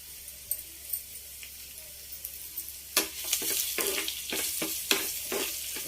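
Curry leaves hit hot oil during tempering and sizzle and crackle loudly after a quiet stretch, with sharp pops over a steady frying hiss.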